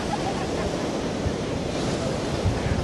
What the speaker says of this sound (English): The seas of Blackpool are very treacherous.